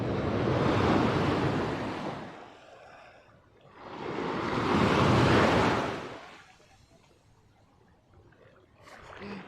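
Sea waves break on a rocky shore during fishing, two loud surging washes rising and fading in turn, with wind buffeting the microphone between them.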